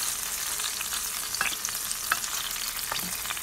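Meat cooks in a pan for stuffed peppers, giving a steady, bright sizzle with scattered small pops and crackles throughout, heard alone at moderate volume.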